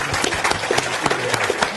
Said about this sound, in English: big round of applause for everybody up here